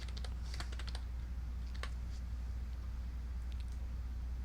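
Fingers type on a computer keyboard in quick bursts of close, light clicks that thin out into sparse taps over a steady low hum.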